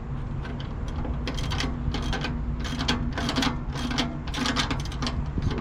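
Bolt on a quarter fender of a Volvo D13 truck being tightened with a socket ratchet, giving rapid clicking bursts in an irregular rhythm over a steady low hum, close and fairly loud.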